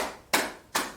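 Two sharp, evenly spaced claps ring out close by in a classroom, praising a group of pupils.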